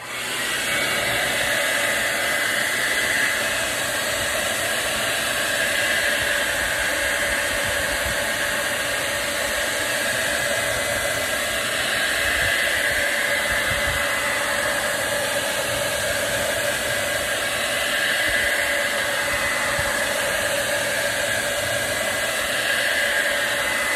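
Hair dryer blowing steadily on paint for a pumpkin craft, a loud continuous whooshing roar with no breaks, close and alone for the whole span.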